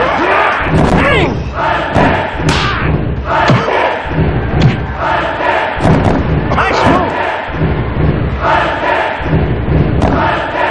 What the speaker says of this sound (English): Check out this crowd! They're on their feet!